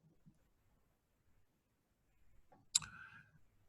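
A single sharp mouse click in a quiet room while installing software on a Mac, with faint soft handling noises before it.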